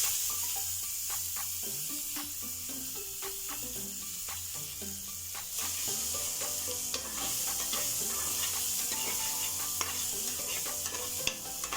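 Cumin seeds and asafoetida frying in hot oil for dal in a home kitchen, a steady close sizzle with crackling pops and stirring scrapes throughout.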